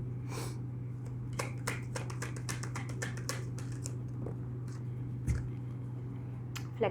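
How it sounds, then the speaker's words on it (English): Tarot cards are shuffled close by in a quick run of soft, crisp flicks and snaps over a low steady hum, faint and light throughout. "Okay, I'll give it one last shuffle."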